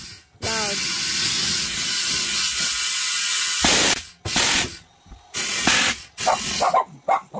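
Air hose inflating a wide-rimmed tire, heard as a loud continuous hissing blast that cuts off and restarts in shorter bursts, with a brief squeaky yelp near the start.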